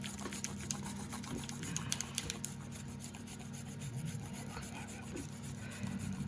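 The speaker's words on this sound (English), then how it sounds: "So we're literally just going to grate some chocolate over the top." Chocolate being grated over the top of a key lime pie, giving a soft, steady scratchy rasping that runs continuously at low volume for the whole stretch.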